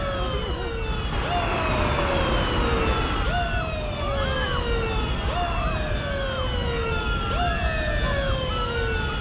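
A police siren wails in repeated rising and falling sweeps, loud and close, with a second siren tone overlapping and traffic-like noise underneath.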